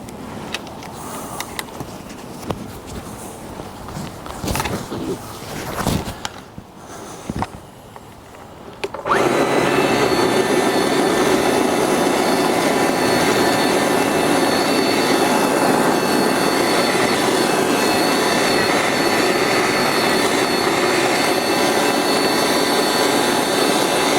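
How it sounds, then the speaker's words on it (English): A Kombi System tiller churns through garden soil full of tree roots, a loud, steady engine drone starting abruptly after some handling knocks and continuing unbroken to the end. "let's run the tiller now through this"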